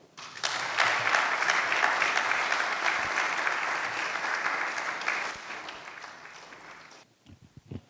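Sustained applause from a conference audience at a financial roadshow event in Ghana, a dense wash of clapping that swells quickly, holds steady for several seconds, then thins out and stops.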